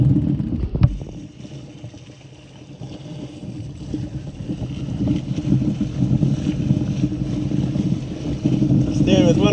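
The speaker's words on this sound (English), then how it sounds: "And now we're sailing." Hobie sailboat underway on shallow water in the Bahamas, with steady wind rush and water wash building over several seconds, a knock near the start, and faint voices under the noise.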